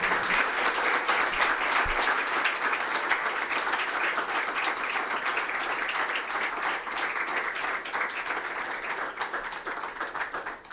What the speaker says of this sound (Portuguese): Vamos a darle un fuerte aplauso a nuestro Señor Jesucristo